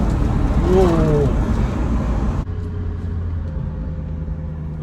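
A BMW M3 E93 with its V8 engine downshifts from third to second gear. A loud, close engine roar shifts in pitch, then settles to a lower, steadier drone, and a voice lets out a brief exclamation.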